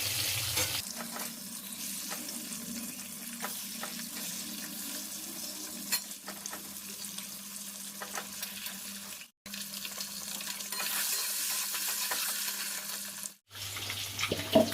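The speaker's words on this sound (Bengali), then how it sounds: "ওদিকে ডিমটা ভাজা হতে থাক" An egg fries in a pan with a quiet, continuous sizzle that runs for several seconds, broken by two brief pauses.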